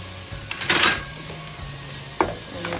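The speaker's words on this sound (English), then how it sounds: "After a few minutes, I'm going to add the ginger, garlic and the chili paste." Ginger, garlic and chili paste sizzle and are stirred with onions in a pan for an Indian navratan curry, with a loud burst of scraping and frying early on, then quieter sizzling and a second brief stir.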